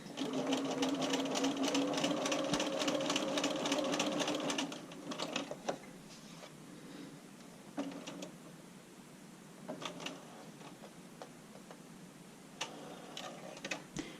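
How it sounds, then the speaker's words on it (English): Understitching on bra lining, a sewing machine hums steadily for a few seconds, then stops, followed by faint intermittent clicks and short handling noises at low volume. "just put this back in and understitch it"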